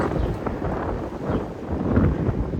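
Wind blowing outdoors in a garden, a steady broadband roar with gusts rising and falling, buffeting the microphone close by, with no speech.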